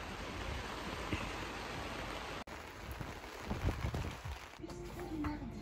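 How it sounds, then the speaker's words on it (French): Rain falls on a sailboat off Panama, a dense steady hiss of drops on deck and water, close and fairly loud, with a brief break midway and faint bumps of movement aboard. "Mais maintenant, il pleut."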